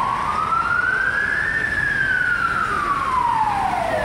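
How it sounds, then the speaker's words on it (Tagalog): A police car siren wails through heavy night traffic on Nathan Road, a single loud, clear tone sweeping slowly up and then gliding back down over a steady hum of road noise. "Tumutunog na yung wangwang ng pulis."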